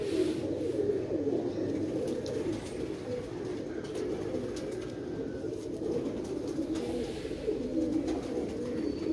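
A pigeon coos in a low, continuous, rolling murmur that runs steadily throughout at moderate volume, with no talk.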